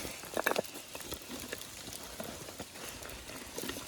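Heavy rain falling in a forest in the Vosges mountains, a continuous dense patter of drops with a few louder close hits near the start and no voices.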